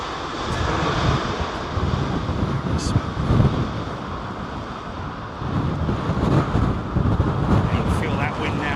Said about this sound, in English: Feel that wind now.